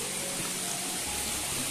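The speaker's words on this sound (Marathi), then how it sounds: "इथे तुम्हाला पाण्याचा बघा आवाज असेल ना, इथे बाजूने सगळा मोठा झरा आहे." Rainwater gushes in a stream beside a path, a steady broadband rush of flowing water, fairly faint and continuous with no voices.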